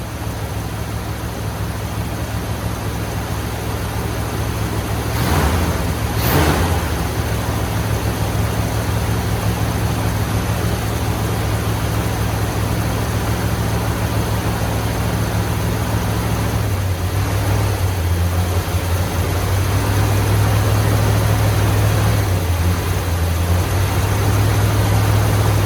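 A 1972 Chevelle engine idles after start-up with a steady, deep rumble throughout, the idle shifting slightly in pitch partway through, with no one speaking.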